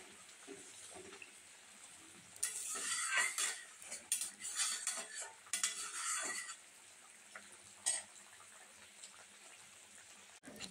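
Rohu fish gravy stirred in a pan, with a burst of metal utensil scraping and clinking against the pan, irregular and close, then a few isolated clanks before it settles quiet.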